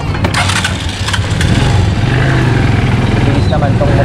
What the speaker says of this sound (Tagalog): Bilis naman tong motor ko yan.